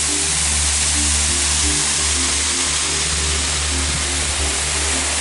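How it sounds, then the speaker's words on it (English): Steady, loud rushing water from the waterfall at Junta de Aguas Cabogana in Ecuador, a continuous broadband roar with a low hum running underneath and no speech. "We finally made it to the waterfall."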